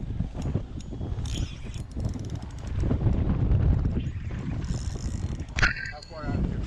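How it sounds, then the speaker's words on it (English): A motorboat engine hums and swells, growing louder as it draws near on open water during fishing, with wind buffeting the microphone and people talking over it. "Why is this boat coming back?"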